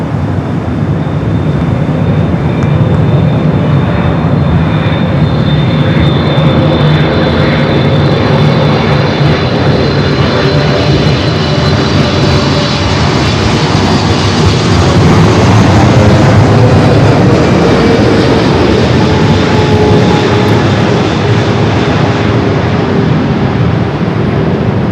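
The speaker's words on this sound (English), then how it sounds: "Next arrival is Philippine Flight 122, the afternoon flare, looking like a south side arrival" Philippine Airlines Flight 122 lands on runway 25 left at Los Angeles airport, its jet engines a loud, continuous roar that swells slightly midway and holds for the whole stretch.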